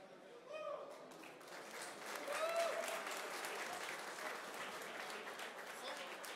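Audience applause after a Waves Client 1.0 presentation in Amsterdam fills the room, many hands clapping steadily at moderate volume, swelling slightly then holding, with a few voices faintly over it.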